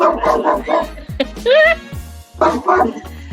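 A dog gives several short yips and bow-wow barks in quick bursts, with a whine in the middle, heard close and loud over a person talking.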